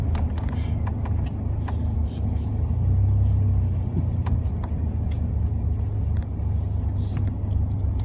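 Truck driving on a road, a steady low engine and road rumble inside the cab with small rattles, while people talk over it throughout.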